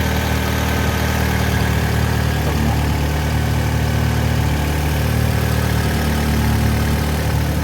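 A C20LET turbocharged car engine runs steadily at idle, a loud continuous low rumble with constant vibration and no talk, recorded up close in a garage after a turbo cartridge replacement.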